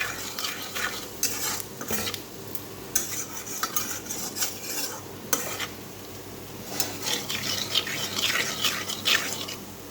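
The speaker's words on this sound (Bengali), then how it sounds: "এখানেও আমি একটু জিরে ফোড়ন দিয়ে দেবো।" Cumin seeds temper in hot oil in a pan, giving a steady close sizzle and crackle with repeated scraping and stirring clinks of a utensil against the pan throughout.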